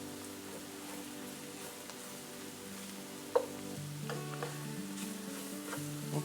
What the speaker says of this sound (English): So you just have to keep stirring. It doesn't take long. Just keep stirring the flour in.